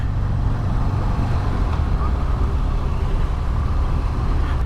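A 2021 Harley-Davidson Fat Bob with a Milwaukee 8 motor and forward controls runs under way, a steady, loud low rumble with wind and road roar, unbroken for the whole stretch.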